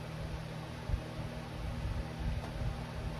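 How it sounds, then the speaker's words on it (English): A loud fan runs steadily beside a 24V transformer test setup, its continuous broadband whoosh and low rumble close and unbroken throughout. "I'm going to go turn that loud fan off."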